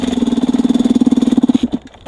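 XTNG GEN3+ motorcycle engine idling at very low RPM, a loud, close, steady pulsing chug that sputters and dies out near the end, with no talking.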